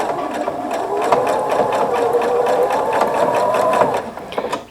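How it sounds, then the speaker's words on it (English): A sewing machine stitching a lace border onto a tablecloth, a steady close mechanical whirr with rapid needle rattle, running continuously before tapering off at the end. "I'm just stitching on the upper section of the lace"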